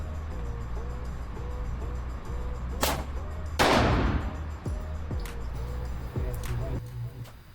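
Pistol shots are fired at an outdoor range from about 7 yards, two loud sharp cracks with a few fainter reports over a steady low rumble, and a person talks in between.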